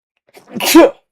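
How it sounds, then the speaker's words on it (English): A single sharp sneeze, close and loud, with a short breathy build-up before the burst. "I gotta sneeze."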